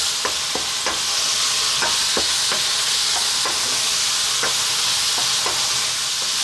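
Pork frying with garlic and ginger in a pan, a steady loud sizzle with periodic sharp scrapes and taps of a utensil stirring, no voices.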